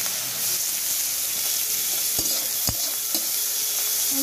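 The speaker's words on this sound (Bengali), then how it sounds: "ভালো করে লাল লাল করে চিংড়ি মাছটাকে ভেজে নিচ্ছি।" Shrimp fry in turmeric-tinted oil in a wok, giving a steady, close hiss of sizzling with a few light knocks of stirring and no talking.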